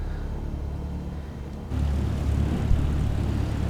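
A propeller airliner taxis in Microsoft Flight Simulator 2020 near Pisa, its steady engine rumble low and continuous, swelling louder partway through as the brakes come off and power builds.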